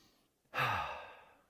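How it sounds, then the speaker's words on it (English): A single deep relaxing breath during a qigong exercise, heard close and soft as a long airy inhale that swells quickly and then slowly tapers off, with no talking. "we inhale back up to the center, deep relaxing breath"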